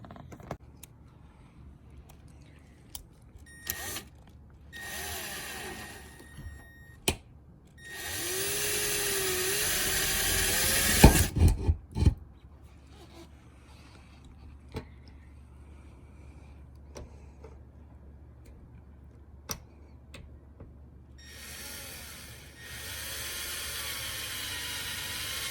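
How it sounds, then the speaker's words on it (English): A power drill whirs in a few short bursts and one longer run of several seconds, close by, drilling holes in a camper van, with quieter clattering and handling noises between. "We just finished drilling the holes in here"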